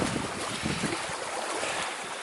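Choppy lake water slapping against a solo canoe along the shore in Algonquin Park, a steady broadband wash of waves with wind noise buffeting the microphone, continuous and fairly close, no voices.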